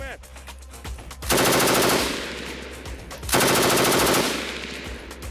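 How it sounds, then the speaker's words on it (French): Machine gun on the Ukrainian front fires two loud sustained bursts of rapid shots at close range, each under a second long with a pause between, against a background rumble. "C'est une mitrailleuse. Continue à travailler."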